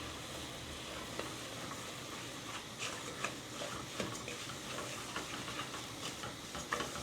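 Lapsi roasting in hot ghee in a pan on a stove over high flame, a soft continuous sizzle with small scattered stirring clicks and ticks, close and fairly quiet.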